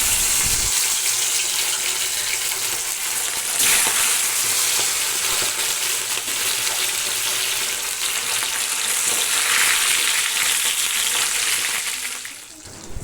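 Fish frying in a pan in a home kitchen, with a loud, continuous sizzle and spatter close by, steady for the whole stretch and fading slightly at the end, with no voices.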